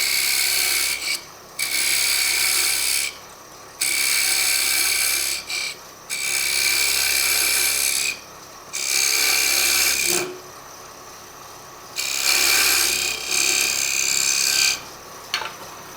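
A wood lathe with a spinning workpiece as a tool turns a tenon, making repeated bursts of loud, hissing, scraping cuts lasting one to three seconds, separated by brief pauses where only the lathe's hum continues.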